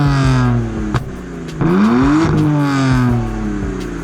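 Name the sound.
BMW 135i engine running and revving after swap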